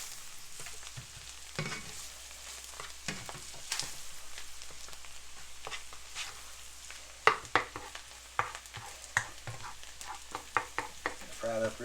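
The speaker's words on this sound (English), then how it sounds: "Get that frying really good." Steady frying sizzle from a pan of wild poke greens frying crispy, broken by sharp scraping and stirring clatters that grow more frequent toward the end.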